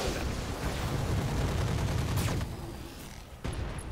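Mech weapons firing in the video game Roguetech: a dense, rumbling barrage of gunfire and explosions that sustains for a couple of seconds, then thins to quieter crackling with a final burst.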